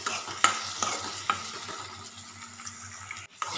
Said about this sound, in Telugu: టమాటోలు కూడా ఇందులో వేసి గుజ్జు అయ్యేంత వరకు కలుపుకోవాలి